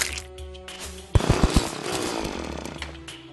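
A drill from the Terraria video game grinds in with a harsh buzzing whine after a quieter opening. A burst of sharp thuds comes first, then the tool rasps steadily at a moderate level.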